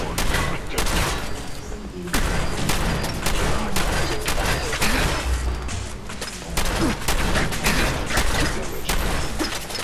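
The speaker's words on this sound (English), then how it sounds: "I'm just gonna use my shotgun" Loud, repeated shotgun blasts in Fallout 4, about a dozen heavy booming shots fired in quick irregular bursts, close and dominant, with some speech mixed in.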